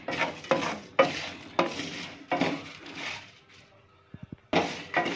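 Bay leaves and whole spices roasting in a pan over a very low flame, stirred in a series of scraping strokes with light clinks and a faint sizzle, fairly close, with no talking.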